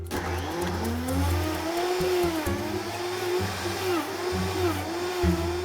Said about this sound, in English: we're gonna go ahead and cover this blender and start blending